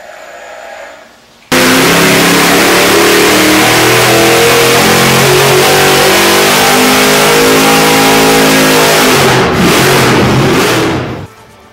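A Nelson Racing Engines street car engine making 1150 horsepower at 18 psi revs loud and close, holding a sustained, climbing roar for about ten seconds before cutting off abruptly.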